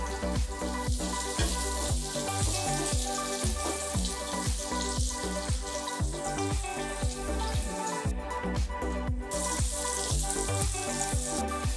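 Chopped onions and green chillies frying in oil in a pan for a mutton liver pepper fry, a steady dense sizzle with faint crackles and stirring, close up and continuous without talk.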